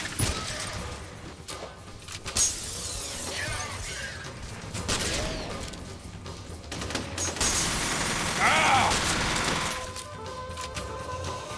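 Dense rapid gunfire fills a first-person shooter match, with bursts of shots and mechanical clatter layered over busy game effects and music, loud and nearly continuous.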